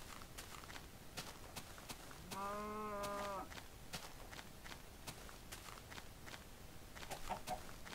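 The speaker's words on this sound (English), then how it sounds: "And there's chickens." A chicken in a video game gives a single short clucking call among a steady run of soft, regular footstep-like taps, faint and fairly distant.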